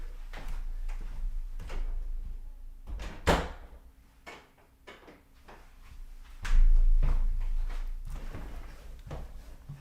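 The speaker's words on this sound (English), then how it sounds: "I need to close the door." A door in a home is pushed shut with a single solid thunk, set among scattered soft knocks and movement in an otherwise quiet room.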